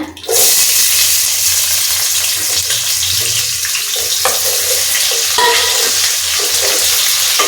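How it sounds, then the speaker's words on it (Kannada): Onions fry in hot oil with cloves, cinnamon and cardamom for a mushroom fenugreek-leaf pulao, a loud dense sizzle bursting in at the start and holding steady, with a few spoon scrapes along the way. "ಈರುಳ್ಳಿ ಸ್ವಲ್ಪ ಕೆಂಪಾಗಬೇಕು ಕೆಂಪಾಗೋ ತನಕ ಸ್ವಲ್ಪ ಹುರ್ಕೋಬೇಕು ಎಣ್ಣೆಲಿ"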